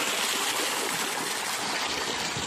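A river running below a mountain resort pool, a steady, full rushing and babbling of flowing water, continuous and close with no voices.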